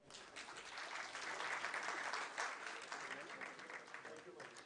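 Audience applause at a Punjabi conference session rises into a sustained wash of clapping that swells and lingers for several seconds, fairly distant and roomy, with some voices mixed in.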